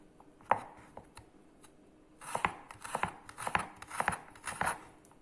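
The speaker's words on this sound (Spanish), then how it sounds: "Y volvemos a cortar. Siempre bien chiquitito." Carrot being finely chopped with a knife on a cutting board: a few isolated taps, then a quicker run of crisp, close cuts, quiet and without voices.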